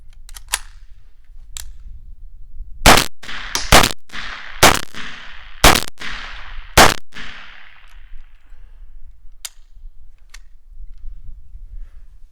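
Five loud, sharp gunshots from an AK rifle fitted with a Witt SME suppressor, firing standard 115 grain FMJ ball ammo, crack in an uneven sequence, each followed by a brief ringing tail, with faint metallic clinks before and after.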